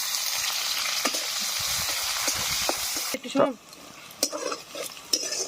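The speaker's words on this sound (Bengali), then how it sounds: "দিয়ে দেবো পেঁয়াজ কুচি" Chopped onions hit hot oil in a pan with a steady, loud sizzle for about three seconds, then the frying quiets and a few stirring scrapes and clinks follow while someone speaks briefly.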